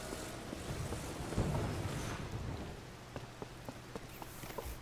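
Steady rain falls in the video game Legend of Zelda: Tears of the Kingdom, a dense hiss with scattered faint droplet taps and a low rumble underneath, and no voices.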